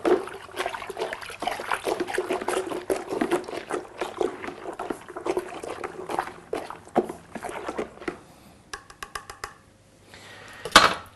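A beer brewing mix is stirred in a vessel until it dissolves, giving continuous close sloshing and splashing strokes that slow toward the end, followed by a few clinks.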